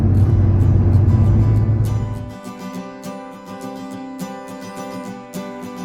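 A 2000 Porsche 996 Carrera 2 Tiptronic fitted with GT3 wheels, driven fast. A loud engine drone pulls for about two seconds, then drops away to a quieter cruising tone with some interior rattles.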